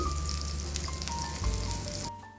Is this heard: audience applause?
no